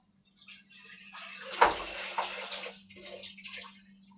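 Splashing, uneven water as vegetables are rinsed under running water in a home kitchen, close and moderate with gurgling bursts, no talk.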